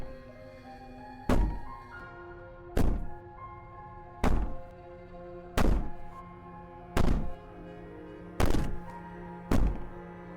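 Heavy banging in the video game Slay the Princess lands as seven deep, booming thuds at uneven intervals of about one to two seconds, each ringing briefly over a low droning background.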